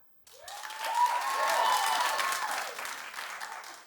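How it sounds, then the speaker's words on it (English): An audience claps, the applause swelling quickly, holding for a couple of seconds, then thinning out as it fades. "If you don't want Nicki, if you do want Nicki there, clap"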